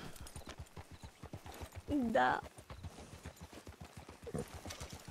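Horse hooves clip-clop steadily in a Western-era roleplay video game set around 1920, a regular close-up rhythm of hoof strikes running throughout, with a brief whinny in the middle and people talking over it.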